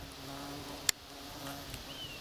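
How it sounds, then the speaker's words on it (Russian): A bee hums in a steady, faint drone close to the microphone in an outdoor clearing where berry plants bloom, with one sharp click partway through. "Вот еще одна пчела."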